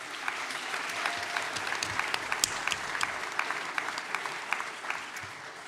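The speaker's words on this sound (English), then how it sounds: "I'd like everybody to give yourself a really big round of applause" Graduates at a college graduation morning ceremony give themselves a big round of applause, a steady wash of many hands clapping with sharp individual claps poking through throughout, fairly close and sustained.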